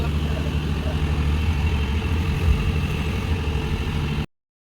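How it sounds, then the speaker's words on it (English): Heavy traffic idles and rumbles at a road junction in Old Goa near Divar, a steady low engine drone with faint passing vehicles that holds constant before cutting off abruptly. "Look at this traffic right now."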